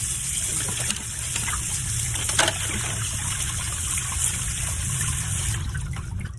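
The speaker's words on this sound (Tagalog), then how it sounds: "Tapos niyan, ihugasan natin ng ayos para maging malinis." Chicken pieces washed under running tap water, a continuous gushing and splashing stream with small bumps of handling, heard up close and alone.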